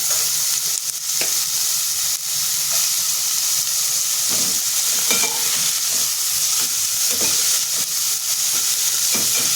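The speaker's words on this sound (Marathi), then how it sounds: "आता ह्याच्यामध्ये शिमला आणि गाजर हे टाकून परतून घ्यायचे कोबीसुद्धा मी लगेच टाकून घेते त्याच्यामध्ये" Capsicum, carrot and cabbage being sautéed in a pan for mushroom fried rice: a steady, loud sizzle runs throughout, broken by occasional scrapes and stirs of a spatula.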